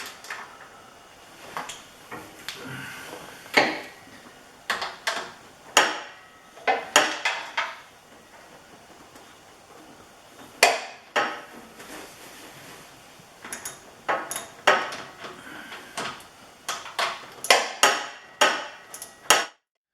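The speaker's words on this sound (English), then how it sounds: "So we've tightened these 4 bolts back up now with Loctite." Metal clanks and ratchety taps come from tightening bolts with Loctite on a Kubota BX2816 front-mounted snow blower. The sharp knocks arrive in irregular clusters with brief pauses, close and fairly loud, with no talking.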